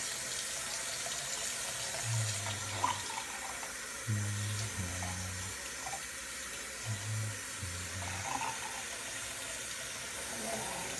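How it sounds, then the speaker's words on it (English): Tap water runs steadily into a sink as an object is rinsed under the flow, a continuous hiss and splash throughout with a few low thumps and knocks. "run it under some water, dry it off"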